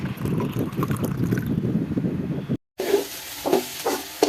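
Wind blowing from the south buffets the microphone in loud, rumbling gusts, cuts out briefly, then returns as softer hissing bursts.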